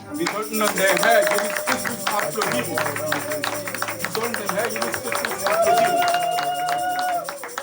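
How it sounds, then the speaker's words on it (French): A church congregation claps and cheers in praise of Jesus Christ, a dense crowd of applause and voices running throughout with music tones underneath, loud and close. "Applaus für den Herr Jesus Christus"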